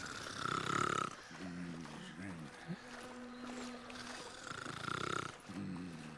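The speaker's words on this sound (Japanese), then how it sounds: "人間のいびき？" Loud, rasping human snores in the video game Call of Juarez: Gunslinger come in slow rhythmic breaths, with a voice speaking in between.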